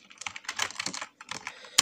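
Rapid bursts of keystrokes on a computer keyboard, close and fairly loud, with brief pauses and a final sharper key press, no talking.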